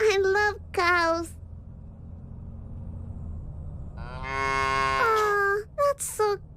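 Cows mooing in the video game Little Misfortune, a few drawn-out moos heard clearly, with short bursts of talk at the start and end.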